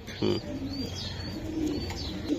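Racer pigeons coo in a low, soft murmur running through most of the stretch, close and steady, with a few brief brighter chirps above it and no voices.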